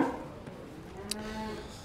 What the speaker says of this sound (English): So now I can move cattle right around the barn.